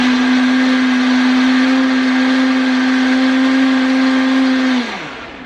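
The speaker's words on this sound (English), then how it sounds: "Now we're just gonna stir this up in our," A kitchen blender whirs steadily as it mixes homemade ice cream, a loud constant motor drone that winds down abruptly near the end as the blade spins to a stop.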